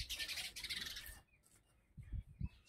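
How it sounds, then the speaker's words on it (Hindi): Many birds chirp loudly in a dense, bright chorus outdoors for about a second. The chorus then drops away to sparse, quieter calls with a few low thumps nearby. No one speaks. "ये देखिए चिड़िया बहुत ज़्यादा आवाज़ कर रही है अभी"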